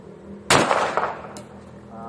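A single handgun shot fired single action at a target, with a sharp loud crack that rings and decays over about a second, with faint noise after.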